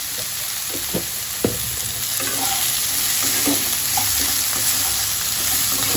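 Betho leafy greens fry in a pan with salt and turmeric, a steady sizzle punctuated by scraping and clinking as they are stirred.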